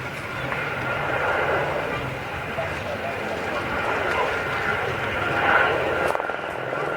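Display aircraft performing a braking manoeuvre, pulling up high at an air show, heard as a steady broad engine roar that swells slightly near the end, continuous across the scene with a faint commentary voice mixed in.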